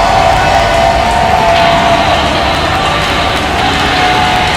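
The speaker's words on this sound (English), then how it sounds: "listen to this crowd!" Loud wrestling arena crowd roaring and cheering continuously at a Reality of Wrestling show, a dense sustained wall of noise with a faint tonal hum running underneath.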